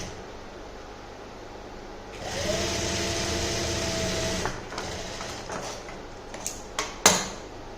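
A sewing machine stitches pintucks on a neck design, running steadily for about two and a half seconds before stopping, followed by a few light handling clicks and taps nearby.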